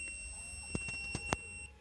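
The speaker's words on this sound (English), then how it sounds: "when I switch it on, you will hear a beep noise" A Sega Dreamcast VMU being switched on gives a few short, sharp electronic beeps spaced irregularly over a faint steady high whine, close and fairly quiet.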